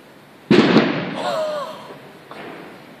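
A firework goes off with a sudden loud bang followed by fizzing, crackling and a whistling trail, then a fainter pop as it fades, set off outdoors by a boy.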